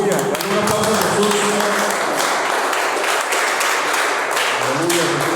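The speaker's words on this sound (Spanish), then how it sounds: "Dale un aplauso a Jesús." A church congregation applauds during a Spanish-language sermon, a dense, sustained patter of clapping mixed with voices and cheers.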